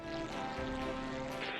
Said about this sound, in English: Sounds like our engine is struggling up here.